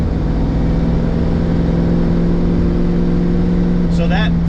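A 1960s Ford Mustang engine pulls steadily in fourth gear, a loud, continuous low drone heard from inside the car, with a brief sharp squeak near the end.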